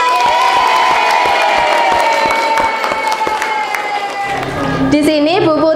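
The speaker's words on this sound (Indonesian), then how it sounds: "Beri tepuk tangan untuk kita semua." Schoolchildren in an Indonesian classroom clapping together, a quick burst of hands under a sustained sung or chanted tone, ending with children's voices rising near the close.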